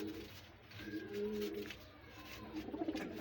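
Pigeons coo nearby in soft, rolling low calls, a few repeated phrases rising and falling over quiet surroundings with no talking.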